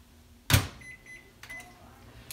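A microwave oven heating an ingredient to melt it for donut muffins opens with a sharp door clunk, followed by a short series of faint electronic beeps as buttons are pressed, and a voice speaks briefly.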